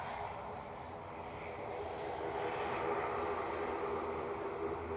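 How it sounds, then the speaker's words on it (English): EasyJet Airbus A320neo departing Manchester Airport for Alicante, a steady, broad jet engine roar heard from a distance that holds level and swells slightly midway, with no break. "EasyJet departing now to Alicante, flight 2105"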